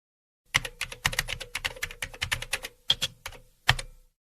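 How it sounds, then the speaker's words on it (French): Rapid clicking of keys on a computer keyboard, a burst of steady typing followed by a few separate keystrokes, close and moderately loud. "vous pouvez taper à l'aide de votre clavier sur le mot CubeCell"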